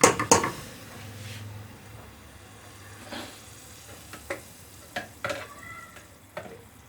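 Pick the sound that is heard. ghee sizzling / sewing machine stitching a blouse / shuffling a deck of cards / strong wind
ghee sizzling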